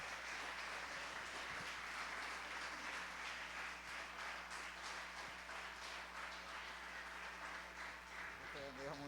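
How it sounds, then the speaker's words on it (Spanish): A large congregation at a Christian conference on mental and spiritual health claps for the King, producing dense, sustained applause that fills the whole stretch with a few voices mixed in. "Un fuerte aplauso al Rey."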